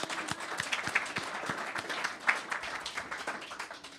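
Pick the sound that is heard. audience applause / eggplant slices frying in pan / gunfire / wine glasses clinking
audience applause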